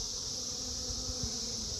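A steady, dense buzzing of many honey bees in an open hive during a frame inspection fills the clip, close and continuous with no voices.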